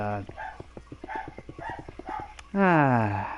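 Several dogs bark in a quick rhythmic run of short, fairly close yaps, with a voice talking loudly over the end.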